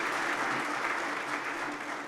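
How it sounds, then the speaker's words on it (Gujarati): An audience claps steadily to welcome a guest, a businessman who runs modern machinery, at a Thursday talk program. The dense, even applause fills the room at close range throughout with no voices. "જોરદાર તાળીથી વધાવીએ"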